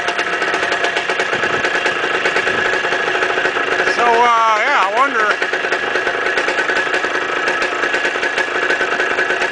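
A 1970 Suzuki TS250 motorcycle engine idles with a steady, rattling pulse, while someone speaks briefly over it midway.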